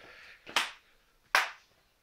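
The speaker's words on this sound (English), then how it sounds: "Go and clap two times." Two sharp hand claps about 0.8 seconds apart, close and fairly quiet, with brief decaying tails and no talking.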